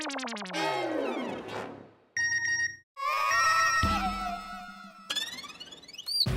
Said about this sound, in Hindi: अभी किसका बजा मोबाइल?